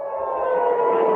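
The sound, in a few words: air raid siren in Israel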